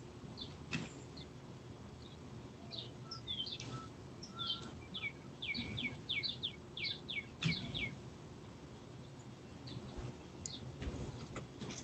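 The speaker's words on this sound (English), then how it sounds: "I hear the birds singing." Birds chirping and singing outdoors, a series of quick, high tweets in short bursts that sound faint and distant over a quiet background hum.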